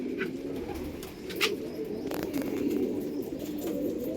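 Soft, low cooing of Kalanka pigeons repeats steadily throughout, with a few faint higher chirps from other birds in the background.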